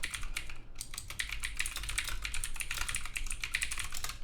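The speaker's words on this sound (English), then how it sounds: "you'll have to excuse my very loud mechanical keyboard" A loud mechanical keyboard is typed on in a close, continuous flurry of crisp clacking keystrokes, dense and steady with no voice over it.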